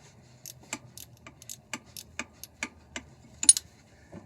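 Small 8mm ratcheting wrench with a 12-point box end, clicking in short bursts of sharp metallic ticks, about a dozen over several seconds, close and fairly quiet with no talking.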